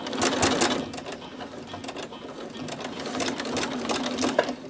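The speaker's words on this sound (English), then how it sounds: "allow the machine to continue to work and pull this through" A sewing machine runs continuously, stitching through a pleated cotton oven towel with a fast, steady mechanical whir and rapid needle clatter that rises slightly toward the end, close and loud.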